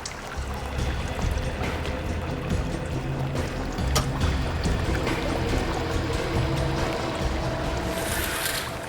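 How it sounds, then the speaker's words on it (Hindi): Water flows with a continuous splashing, trickling rush and brief louder splashes throughout, with no voices. "पानी बहने की आवाज आ रही है।"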